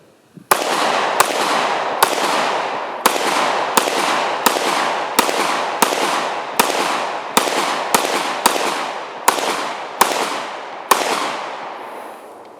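A Smith & Wesson M&P Shield .40 caliber pistol firing fourteen loud sharp shots at a brisk uneven pace, each crack followed by a long ringing echo that fills the gaps between shots.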